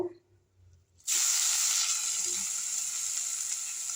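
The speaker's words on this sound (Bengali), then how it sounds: "এটা পুরো সর্ষের তেলে করবো। এখানে সর্ষের তেল দিয়ে দিলাম। এবার শাকগুলো আমি এর মধ্যে তুলে দেব।" After a brief quiet moment, khesari greens hit hot mustard oil in a wok with a sudden loud sizzle that settles into a steady, close, bright hiss.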